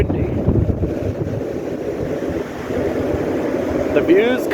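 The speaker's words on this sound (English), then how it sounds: "It's very, very windy." Strong gusting wind of roughly 35 to 40 miles an hour on the summit of San Vicente Volcano in El Salvador, heavy low buffeting roar against the microphone throughout, with a brief faint squeak near the end.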